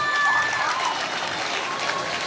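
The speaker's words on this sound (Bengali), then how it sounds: "একবার জোরে হাততালি।" Audience applause at a Dussehra stage performance, a dense wash of clapping from a crowd, fairly close and steady for a couple of seconds.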